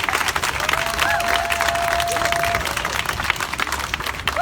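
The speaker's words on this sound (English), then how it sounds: "Can we have another round of applause for Kim, please?" Audience applause for a speaker named Kim at a lobby day event, steady broadband clapping from a crowd, sustained and fairly loud throughout, with a faint tonal whistle or feedback line briefly running beneath it.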